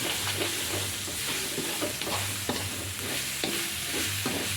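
Rat meat being stir-fried in a pan for a spicy basil dish, a continuous close sizzle with repeated scraping and clinking of the spatula stirring the meat, no talk.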